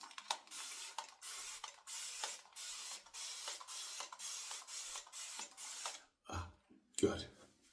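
Repeated short hissing bursts of an aerosol shaving spray can, about a dozen in a steady rhythm, close up, followed by a couple of brief noises.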